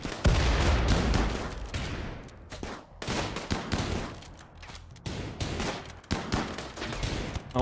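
Sustained video-game gunfire in a chaotic battle: dense, loud volleys of rapid shots rattle almost continuously, dipping briefly between bursts before resuming, with no voices.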